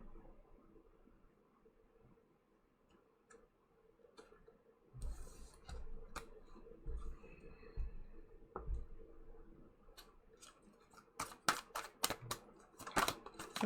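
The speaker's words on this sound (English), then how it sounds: "A whole bunch of cards flipped over." Tarot cards flipped over one after another on a table, a run of quick light clicks and snaps that grows denser and louder toward the end, close by with no talk.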